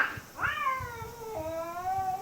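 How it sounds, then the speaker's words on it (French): Wild cat crying out, a drawn-out wavering yowl that rises and bends in pitch, heard near and clear after a short opening call, over a faint background. "alors que le cri de ce chat sauvage retentit à nouveau"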